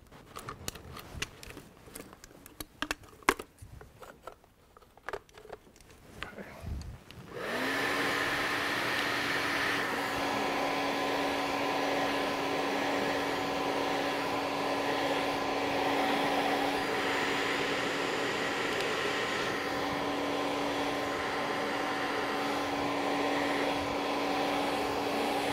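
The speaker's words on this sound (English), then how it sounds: "So I'm just going to use a vent brush, hair dryer," A few scattered clicks and knocks give way to a hair dryer with a nozzle switching on and blowing in a steady, loud whoosh with a constant motor hum, in a barber setting.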